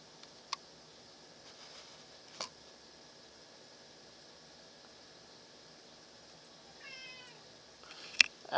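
A house cat meows in a quiet room, a short faint mew late on, with a few soft ticks and clicks earlier over a low hiss.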